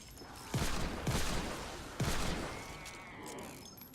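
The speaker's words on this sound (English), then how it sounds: "Unless you start shooting bricks like that and not hitting anything." Gunfire in the Fortnite video game: a few heavy shots spaced about half a second to a second apart, each with a sharp crack and rolling tail, over a steady game background.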